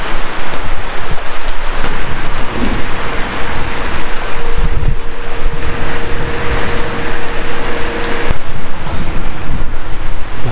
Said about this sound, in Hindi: दोपहर का 3 बजने वाला है और बारिश थमने का नाम ही नहीं ले रही।